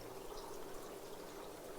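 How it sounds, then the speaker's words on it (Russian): Water from an aquarium pump flows steadily between stacked fish tanks, a soft continuous pouring trickle held at low level without a break. "когда я включил насос, он сам включился через 10 минут. Он начал снова качать."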